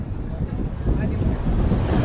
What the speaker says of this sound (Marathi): समुद्राचं पाणी बघू शकता किती उंच मारते पाणी.